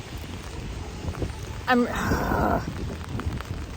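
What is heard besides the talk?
heavy rain and wind on a city street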